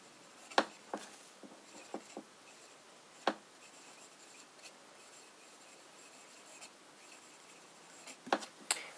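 A fountain pen with an italic nib, inked with Noodler's Apache Sunset, scratches faintly across paper, with soft strokes broken by a few sharper taps and clicks, close and quiet.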